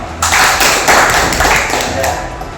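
An audience at a meeting breaks into loud, dense applause, many hands clapping together close by, swelling briefly and then tapering off.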